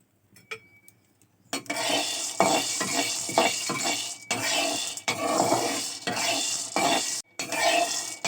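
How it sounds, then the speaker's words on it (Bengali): Peas fry in a pan on a home stove while a utensil stirs them, bursts of scraping and clatter over a continuous sizzle after a brief quiet start, with no voices. "এই যে এখানে কিছু মটর ভেজে নিচ্ছি"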